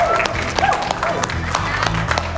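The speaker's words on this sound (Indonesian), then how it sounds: "Kita tepuk tangan dulu." A studio audience claps together in a burst of applause, many hands clapping close and fairly loud, with a voice speaking over the clapping.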